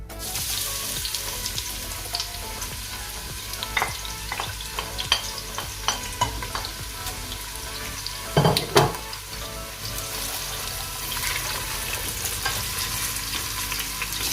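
Sliced onions frying in oil in a pot for degi mutton korma, a steady bright sizzle throughout with occasional scrapes and clinks of a stirring spoon against the pot, close and continuous.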